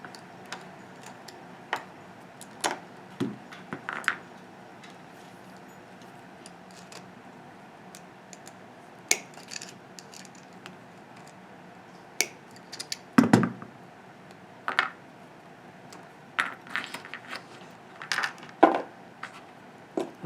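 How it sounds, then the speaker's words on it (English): Electrical wire ends being snipped away with cutters while replacing an electrical outlet, heard as scattered sharp clicks and crisp snips, a few louder cuts standing out against quiet background, with no talking. "So we're just going to take these ends here and we're going to snip them away."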